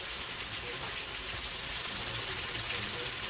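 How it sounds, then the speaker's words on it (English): Onions being washed under a running kitchen tap, with a steady gush of water and small splashes, close and continuous. "I wash my onions"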